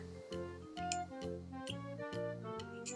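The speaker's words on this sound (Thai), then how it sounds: "วิธีเปิดปิดก็จะเป็นแม่เหล็กนะคะ" A magnetic cap on a stylus pen case snapping open and shut in a few soft, quick clicks over background music.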